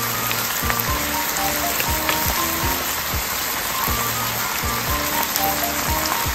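Bamboo shoots seasoned with salt and pepper stir-fry in a pan, a steady close sizzle and crackle throughout, with repeated scraping and clacking of a utensil.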